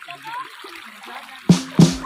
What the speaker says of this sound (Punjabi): ਪਾਣੀ ਆ ਰਿਹਾ ਜੀ